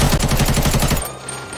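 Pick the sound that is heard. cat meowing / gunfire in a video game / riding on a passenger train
gunfire in a video game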